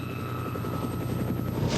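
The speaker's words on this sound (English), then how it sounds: "the Met Chopper is still tailing the Clio" Police helicopter hovering above a car chase on a dual carriageway, a steady low rotor drone with an even chopping pulse and a sustained whine, fairly loud and continuous with no talk.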